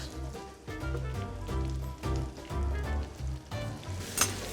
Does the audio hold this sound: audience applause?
no